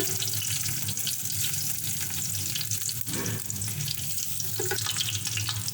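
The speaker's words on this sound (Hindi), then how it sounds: "अब ये खड़े मसाले डाल रही हूँ सारे" Whole spices sizzle in hot oil for mutton pulao, giving a constant close crackling hiss with a few brief clinks, no talking over it.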